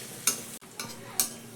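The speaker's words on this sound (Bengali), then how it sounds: "এবার তেলের মধ্যে আমি দেখো বন্ধুরা এক একটা করে টিফিন দিয়ে ভেজে নেব" Tiffin snacks frying one at a time in hot oil, giving a steady close sizzle with three brief louder bursts of bubbling spaced through the short stretch.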